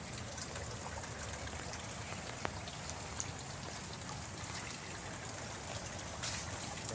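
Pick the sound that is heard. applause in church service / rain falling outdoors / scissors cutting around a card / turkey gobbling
rain falling outdoors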